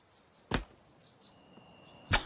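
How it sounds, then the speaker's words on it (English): Two sharp wooden knocks of an arrow striking and bouncing off wooden cabinets in the survival game The Forest, spaced about a second and a half apart over quiet ambience with a faint steady tone. "this is the arrow bouncing and hitting the cabinets at the back."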